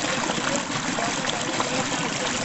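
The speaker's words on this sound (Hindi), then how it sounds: "देखिए दोस्तों ये झरना आ रहा है" Clear mountain stream and waterfall on the Purnagiri pilgrimage route, rushing water in a steady, loud, close broadband roar that never lets up, with no voices.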